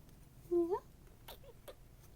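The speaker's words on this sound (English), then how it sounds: "Isn't her meow adorable?" A single short, high meow sounds up close, followed by faint soft clicks and shuffles in an otherwise quiet room.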